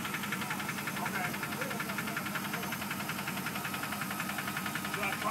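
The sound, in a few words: car engine knocking, lifter or rod knock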